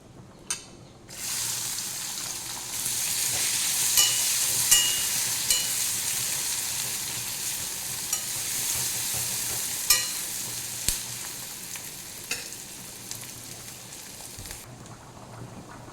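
Onion frying in hot oil with cumin seeds for a fish curry, a steady broadband sizzle that jumps up early and holds loud and close, with scattered sharp pops and crackles throughout before dropping away at the end.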